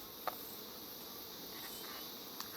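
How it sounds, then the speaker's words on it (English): Honeybees buzzing inside an opened beehive, a steady faint high drone with a couple of brief clicks, no voices. "Can you hear that noise? That's the bees going"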